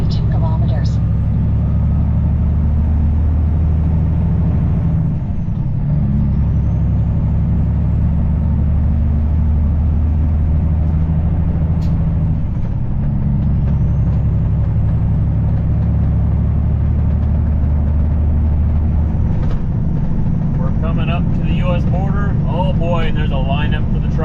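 A truck rolls along a road, heard from inside the cab as a steady, loud low engine and road drone that holds for the whole stretch, with a brief voice near the end.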